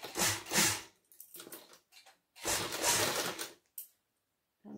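A sewing machine runs in short bursts while stitching a back neck zipper onto a kurti frock, with four or five brisk whirring runs separated by pauses.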